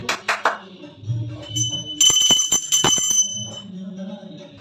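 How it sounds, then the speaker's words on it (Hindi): A small brass puja bell rings in a short burst of bright, sustained tones during early-morning home worship, with sharp hand claps before and among the rings. "मैं तो इसी तरीके से भगवान को ताली बजाकर, घंटी बजाकर भगवान को उठाती हूँ।"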